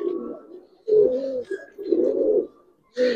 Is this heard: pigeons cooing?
yes